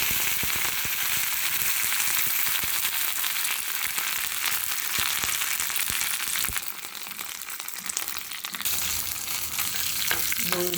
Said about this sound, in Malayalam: അപ്പോൾ എണ്ണ ഇവിടെ ചൂടായിട്ട് ഒരു 1/2 ടീസ്പൂൺ കടുക് ചേർത്ത് കൊടുക്കാം.